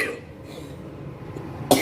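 A single person coughs sharply at close range, with a short burst at the start and another near the end.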